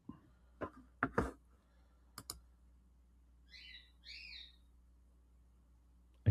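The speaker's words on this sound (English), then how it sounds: "You can hear my birds." A few sharp clicks and knocks, then two quick high chirping calls from small birds, faint against a quiet room hum.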